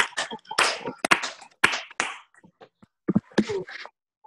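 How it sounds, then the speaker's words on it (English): Participants in an online music class clap four quarter notes, the claps landing out of sync as a ragged scatter of sharp hand slaps with brief gaps, thin and unevenly loud. "we're all going to clap four quarter notes together"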